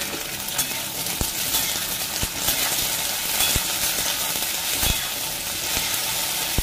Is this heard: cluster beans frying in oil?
yes